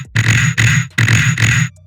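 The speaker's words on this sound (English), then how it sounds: "I made this TEAROUT gun and we layered it with what I'm going to show you here." A heavy layered tearout gun sound built in Ableton fires in two thick, gritty bursts, each made of two quick growling hits with a bright metallic edge, loud and dry with no voice.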